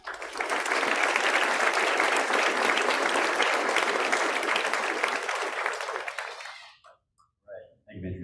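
Enthusiastic audience applause at a military commissioning ceremony, loud sustained clapping from a large crowd that tapers off near the end, followed by a brief quiet gap and a few faint sounds.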